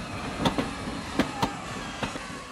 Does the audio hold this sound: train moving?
yes